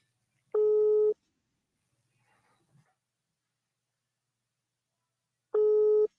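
Two identical electronic tones sound several seconds apart with near silence between them, a telephone signal heard through a line.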